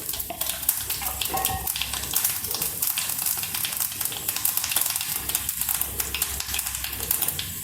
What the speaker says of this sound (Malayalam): കടുക് ഇട്ടിട്ടുണ്ട്, ഇനി അല്പം ഉലുവ, ഒപ്പം അല്പം ചെറുജീരകം,